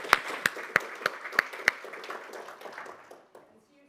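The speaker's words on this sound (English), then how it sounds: "on peut vous applaudir" An audience at a European space industry forum applauds panel speakers, a few sharp claps standing out at first before the clapping thins and fades away over a few seconds.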